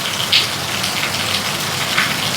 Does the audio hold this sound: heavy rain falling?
yes